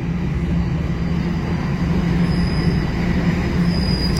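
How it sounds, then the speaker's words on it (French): A metro train rumbling into a station, a steady loud roar with high metallic wheel squeal riding over it. "Et le métro s'en vient."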